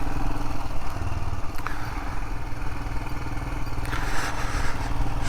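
A Royal Enfield Himalayan motorcycle engine thrums steadily while riding in second gear, a loud, close, continuous rumble with wind and road clatter layered over it and no talk.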